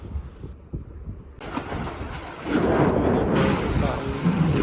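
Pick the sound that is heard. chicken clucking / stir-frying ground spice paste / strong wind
strong wind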